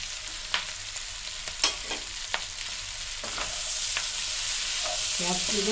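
Chopped capsicum tipped into a hot pan with onions for dry chilli chicken, a loud close sizzle building as a spoon scrapes and stirs in irregular strokes, without any talking.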